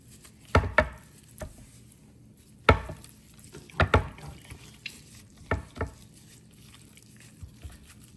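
Chicken wings are mixed with black pepper, pink salt and olive oil in a bowl, giving scattered wet squelches and soft clinks of a spoon against the bowl. The sounds come at irregular intervals over a quiet background.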